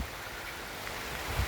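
Heavy rain pours down outdoors as a dense, continuous hiss of broadband noise, with a low rumble in places and no voices.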